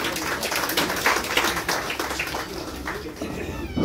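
Applause from an audience at a retirement day celebration as a guest is welcomed onto the stage, a steady wash of clapping through the whole stretch at moderate level.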